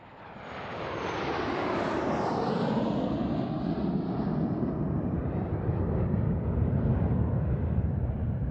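A TSR2 strike jet's engines roar steadily and loudly, a broad sustained rumble swelling over the first second and holding strong throughout, with no talk.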